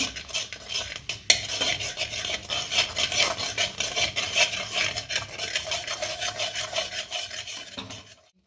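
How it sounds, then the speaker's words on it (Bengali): A spoon is stirred through milk mixed with powdered milk in a pot, making steady scraping strokes close by for about seven seconds, then stopping abruptly. "এবার এটাকে ভালো করে নেড়ে"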